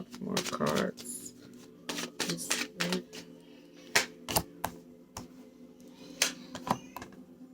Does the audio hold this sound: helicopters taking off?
no